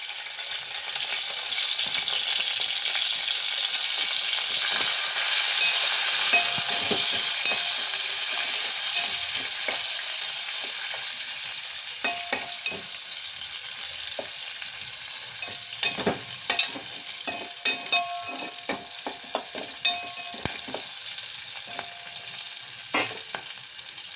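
Green chillies and onions sizzle hard in hot oil for an egg and raw prawn curry, a loud broadband crackle that eases after a few seconds, with irregular scraping knocks of a spoon stirring through the second half.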